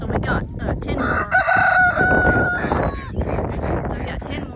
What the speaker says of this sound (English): They're the star chickens. They're called black star chickens.